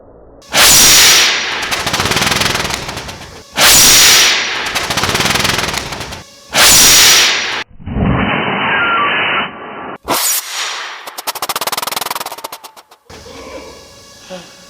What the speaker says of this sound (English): all we're using is ethanol in the Woosh bottle